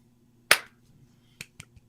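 Three sharp hand claps spaced apart in a quiet room, one loud clap followed by two softer ones, made to sync recordings during a video editing setup.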